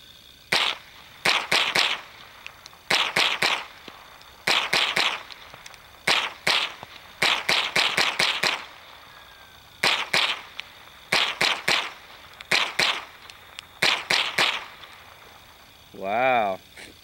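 A Remington 597 rifle fires Remington Golden Bullet ammunition outdoors in quick strings of sharp, snappy shots with short pauses between groups, ending with a brief tonal whine.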